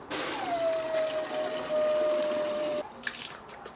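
Water from a garden hose pipe runs into the coolant tank of a Ford Cosworth, making a steady rushing fill with a rising tone. It cuts off abruptly, and a few faint drips follow.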